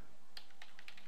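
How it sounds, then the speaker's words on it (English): Quick, light keystrokes on a computer keyboard, a handful of close taps in about a second, crisp and isolated over a quiet background. "So I'm going to type"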